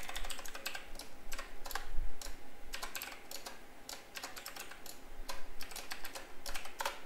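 Rapid, irregular keystrokes on a computer keyboard as code is typed for a Raspberry Pi Pico W Wi-Fi connection function, close and clear, clicking in quick bursts with brief pauses.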